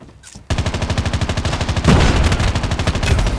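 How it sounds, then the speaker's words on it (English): Rapid automatic gunfire in the mobile shooter game Call of Duty Mobile, a loud, continuous stream of close shots that starts after a brief lull and grows heavier toward the end. "I was shooting at the wrong person"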